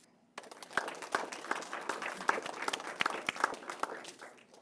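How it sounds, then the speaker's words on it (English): Audience applause for children being honored at a school reading center ceremony: steady, dense clapping from a modest indoor crowd, close and sustained before tapering off. "Let's give them one more round of applause."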